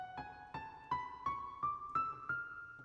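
A piano plays a minor scale, seven or eight single notes rising evenly, soft and close, with no voices.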